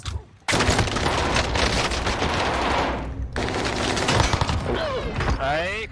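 Heavy automatic gunfire in the video game Warzone, loud and dense bursts filling most of the clip after a brief quiet start, with a short gap midway and voices talking over the shooting near the end.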